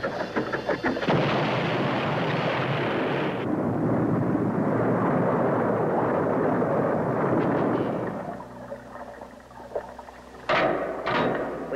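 A cartoon submarine fires its laser beam at an enemy target, a loud roaring, crackling blast that runs steadily for several seconds before dropping to a lower rumble with a few sharp zaps near the end.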